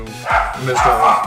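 Several dogs bark in loud bursts, with someone talking over and between the barks nearby.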